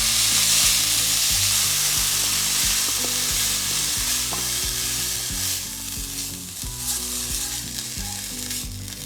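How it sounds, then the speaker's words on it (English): Lean ground beef frying in a pan, a loud, steady sizzle with occasional stirring scrapes, close up and with no talking. "then I'm gonna cook up the ground beef"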